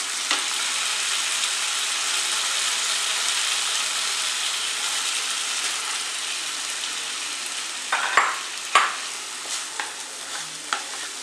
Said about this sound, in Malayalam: അപ്പോൾ ഇതിൻ്റെ അകത്തേക്ക് നമുക്ക് ചോറിട്ട് കൊടുക്കാം.